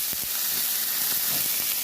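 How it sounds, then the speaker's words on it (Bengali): Steady crackling sizzle of chopped onion frying in hot oil, continuous and close, with faint occasional stirring sounds and no voices. "ওই মাছের মাথা ভাজা করে পেঁয়াজ কুচিটা"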